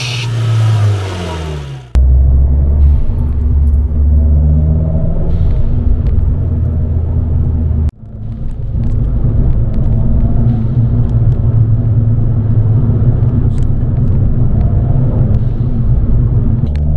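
An Abarth 595 fitted with a pop-off air filter drives along with a loud, steady engine drone and low rumble, interrupted by a brief dip around a gear change before the engine note builds again.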